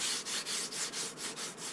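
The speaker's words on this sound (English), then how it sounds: "try and make sure that when you're sanding it, you sand it evenly" Steady rhythmic sanding of a wooden glider edge, back-and-forth strokes about every quarter second, close and continuous.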